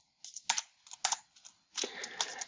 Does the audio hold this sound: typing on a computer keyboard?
yes